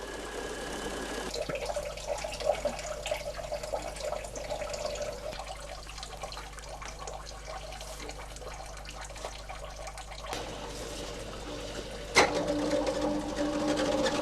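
An old centrifuge in a historic wool mill spins freshly washed raw wool, giving a steady mechanical whir with faint watery trickles, a shift in tone partway through and a sharp clack near the end.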